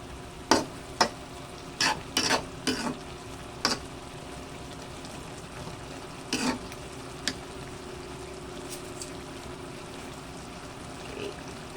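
A chicken and vegetable stew with squash being stirred in a pot, several sharp clinks and scrapes of a spoon against the pot in a brief cluster over a soft simmering background, then mostly quiet.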